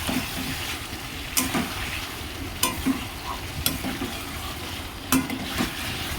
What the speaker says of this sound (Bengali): মশলাটা সুন্দর করে নাড়িয়ে নিচ্ছি। এই যে আমার মাংসটা পুরো অনেকটা কষাচ্ছি।